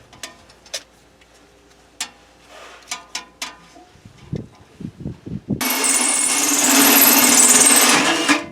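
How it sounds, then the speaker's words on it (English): A power drill bores holes during electrical work running EMT conduit for solar panels. Scattered clicks and taps come first, then a loud, sustained drill whine runs close by for the last few seconds. "Drill 3 holes."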